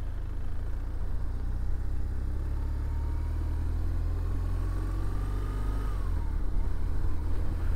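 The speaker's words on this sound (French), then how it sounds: "La moto est avec le silencieux d'origine et c'est vraiment hyper silencieux" A 2007 BMW R1200R motorcycle with its original silencer runs smooth and very quiet, a steady low engine drone with a faint rising tone partway through, no voices.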